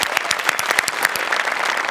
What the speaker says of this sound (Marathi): जोरदार टाळ्या दोघांसाठी.